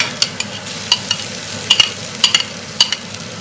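Onions and pepperoni stirred in a frying pan, with irregular scraping clacks from the spoon over a steady soft sizzle, close and clear with no talk.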